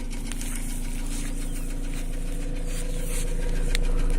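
A Nissan Almera N16 engine idles steadily up close with a fast, even ticking valve knock running through the low hum, growing slightly louder toward the end.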